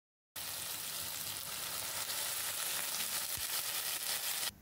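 Water hits a hot pan of frying sausage and wilted tomato and bursts into a loud, steady, hissing sizzle that carries on evenly for several seconds before stopping abruptly.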